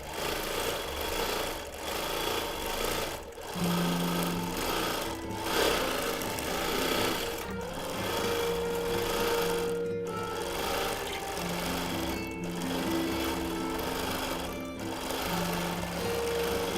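Sewing machine stitching a pieced quilt backing, a steady mechanical whir that runs close and loud throughout, broken by a few brief pauses as the fabric is guided under the needle.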